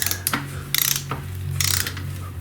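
Torque wrench on a BMW R1200GS swing arm pivot, ratcheting in short bursts with a couple of sharp clicks, close and clear, with no voices.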